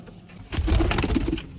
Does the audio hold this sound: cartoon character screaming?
no